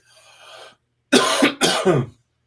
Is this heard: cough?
yes